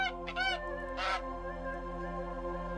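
Goose honks in the nature tile puzzle game Preserve, a few short nasal calls near the start with a longer honk around one second, over a steady humming musical drone.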